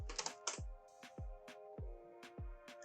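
Quiet, close computer keyboard typing: a short run of separate key taps at an uneven pace, with no voice.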